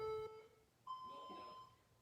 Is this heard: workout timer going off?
yes